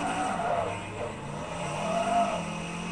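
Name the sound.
car engine drifting in video game Forza 3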